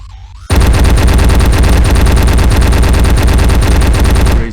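A two-handed spinning rotary gun in a VR Warhammer game opens fire after a brief windup, then pours out a loud, dense, unbroken stream of rapid shots for about four seconds before cutting off.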